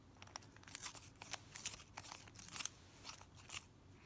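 Sonic Ratchetta capsule pencil sharpener working on a Field Notes pencil, the sharpener twisted around the held pencil, giving faint, irregular scraping and crunching bursts in quick succession, close by with no talk.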